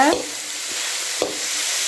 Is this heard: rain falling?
no